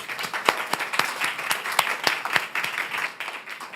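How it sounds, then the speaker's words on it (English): Scattered applause for the panelists at a resilience forum, moderately loud, with a few distinct nearby claps standing out from the wider clapping and tapering toward the end. "let's give a round of applause to the panelists"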